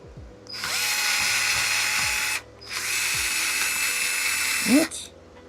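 Electric screwdriver driving screws into an original Xbox controller, two sustained high whirring bursts of about two and a half seconds each, close and loud, with a brief squeal at the end of the second.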